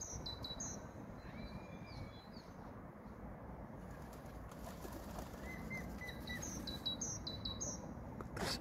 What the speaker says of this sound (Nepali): परेवाले चारो खाँदैछ गाइज